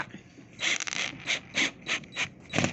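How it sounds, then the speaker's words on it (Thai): A hand rivet gun sets rivets into six holes while assembling a CS121 unit, giving a series of about six sharp, close mechanical clacks spaced at a steady rhythm, with no voices. "เราจะนำสลักตรงเนี้ยค่ะ มายิง ให้ครบ หกรู"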